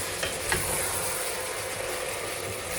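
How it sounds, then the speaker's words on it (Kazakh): Meat, chopped carrot and potato are stirred in a pot, a continuous scraping and sizzling hiss with a few small knocks, close and unbroken, with nobody talking. "Туралған 1 сәбізді қосамыз. Және де 2 картоп. Араластырамыз жақсылап."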